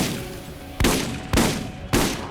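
A shotgun in a first-person shooter video game fires three heavy, booming blasts about half a second apart, each with a short rumbling tail, loud and close with nothing else heard.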